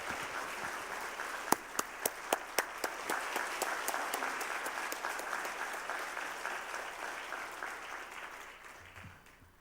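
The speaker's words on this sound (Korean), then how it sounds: "나오실 때 우리 뜨거운 박수로 환영하겠습니다" A church congregation at a Wednesday service gives a warm round of applause to welcome a guest speaker, a dense steady patter with a few louder individual claps early on, slowly tapering off.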